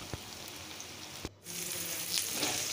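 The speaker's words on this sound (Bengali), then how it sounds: "পেঁয়াজ আর লঙ্কাটা আমার একটু ভাজা ভাজা হয়ে এলো" Onion and chilli fry in a pan with a soft, continuous sizzle, broken by a few sharp clicks and a brief near-silent dip before the hiss resumes, slightly fuller, to the end.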